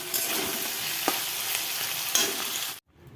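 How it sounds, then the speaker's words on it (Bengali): A tomato skewered on a fork and turned over an open flame, giving a steady broadband sizzling crackle with a few sharp pops, close and alone, ending abruptly in near silence. "এবারে যে টমেটোটা এপাশ ওপাশ করে একটু পুড়িয়ে নিচ্ছি, কাঁটা চামচ ঢুকিয়ে দিয়ে করলে না সুবিধে হয়।"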